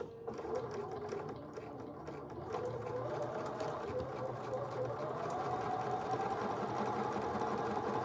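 Sewing machine backstitching along the edge of an appliqué on a mini quilted wall hanging, a continuous close mechanical whir that holds steady throughout without any voices.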